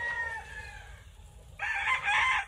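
Gamefowl roosters of the Sweater and Gilmore breeds crowing on a farm, one fairly faint drawn-out crow followed by a louder, nearer crow in the second half, with no talk.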